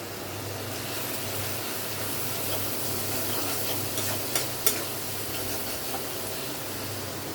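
Fish head, garlic and spices fry in a pan with a dense, steady sizzle and hiss, close and continuous, with a couple of brief clinks near the end.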